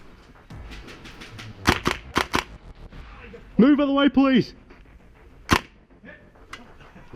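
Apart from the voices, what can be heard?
airsoft gunfire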